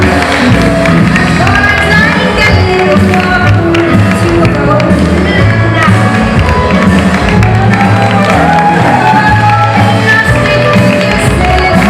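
Warm applause and cheering from a crowd greeting a contestant walking on stage at a hairstyling competition show, steady clapping under music and a presenter's voice.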